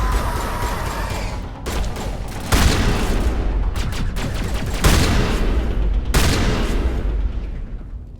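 Gunfire from the Mass Effect video game: several loud, bursting volleys of shots and booms cut in and out over about eight seconds, alternating with short quieter gaps.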